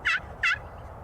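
Two short, bright yelping calls from wild turkey hens come in quick succession in spring woods, fairly close and clear over quiet background.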